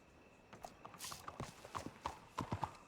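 Horse hooves clip-clop at a steady walking pace in a Western roleplay video game, evenly spaced thuds growing a bit louder and closer, with a faint rustle early on and no talking.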